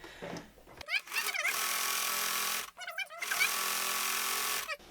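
A sewing machine runs a zigzag stitch along the edge of fabric in two sustained whirring bursts, with quick clicks and handling sounds between them and a voice speaking briefly at the start.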